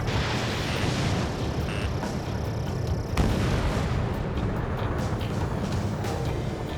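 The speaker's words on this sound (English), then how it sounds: "H2, anti-ship missile launched." Missile launches and explosions in the Ace Combat 7 combat flight game, a dense continuous roar of blasts and rumbling booms, with a sharp louder burst midway, without any talk.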